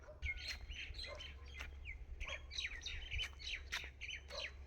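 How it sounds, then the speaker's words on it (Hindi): Birds chirp and squawk in repeated bursts on an early village morning, several calls overlapping at moderate distance over a low rumble, with no one speaking. "आप पक्षियों की आवाज़ सुन सकते हैं"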